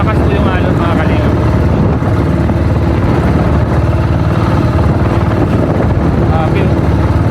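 Strong sea waves slam and wash against a small wooden boat on rough water, a loud, constant roar with engine-like rumble and wind buffeting, while a person speaks over it.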